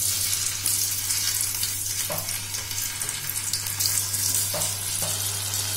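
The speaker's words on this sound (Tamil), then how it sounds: "இப்போ இதை வந்து சூடான எண்ணெயில் போட்டு பொரிக்க போகிறோம்" Jackfruit pieces frying in hot oil, a steady loud sizzle and crackle close by, with a constant low hum underneath and no talking.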